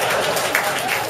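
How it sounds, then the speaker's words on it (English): An audience at an improv comedy show claps in a short, dense burst of applause lasting about a second. "That's usually when people clap."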